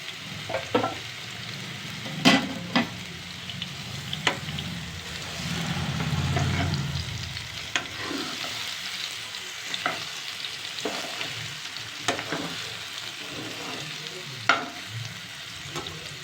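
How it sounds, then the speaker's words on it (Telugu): Paneer frying in hot oil gives a steady close sizzle, with sharp clacks of a utensil stirring and scraping the pan at irregular intervals and no voices. "ఆయిల్ హీట్ అయింది. ఇప్పుడు పన్నీర్ వేసేస్తున్నా."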